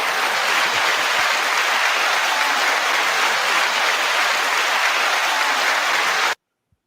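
An audience claps steadily and loudly for a rapper guest at a live hip-hop event, a dense, unbroken wash of applause that cuts off abruptly.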